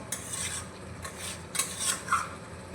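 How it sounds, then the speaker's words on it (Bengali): A spoon scrapes and rubs softly against the inside of a pot of potatoes in a few irregular strokes, quiet and close, with no voices. "আবারও আলুটা কষিয়ে নেব"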